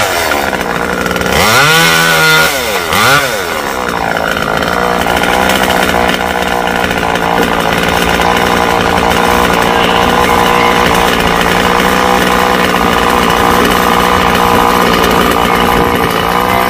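A chainsaw cuts through coconut trees outdoors, the engine loud and close, revving up and down in its first seconds before it settles into a steady, continuous cutting drone.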